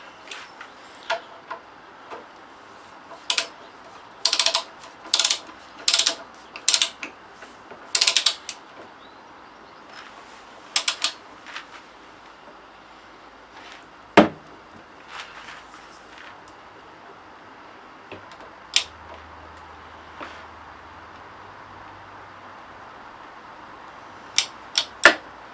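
A torque wrench tightens a nut on the rear end of a 1987 CR 250 motorcycle, giving a series of sharp ratcheting clicks in clusters with quiet gaps between, then a few isolated clicks later on.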